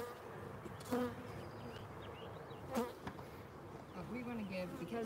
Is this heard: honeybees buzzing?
yes